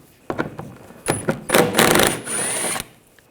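Power tool zipping mud flap bolts out with a 10mm socket on a 2014-2020 Nissan Rogue, a few short whirring bursts followed by a longer run, close and loud.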